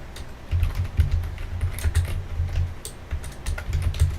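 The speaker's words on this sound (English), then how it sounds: "listening to me type on my keyboard" Close, rapid clacking of keys on a computer keyboard in an irregular, busy rhythm that runs without pause for the whole stretch.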